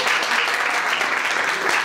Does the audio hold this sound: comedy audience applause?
yes